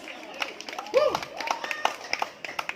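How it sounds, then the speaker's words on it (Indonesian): Audience clapping at a Wuling car presentation in a villa cafe, scattered hand claps rising into a burst then thinning to sparse individual claps, with a voice sounding over it. "Sekali lagi aplausnya untuk Almas."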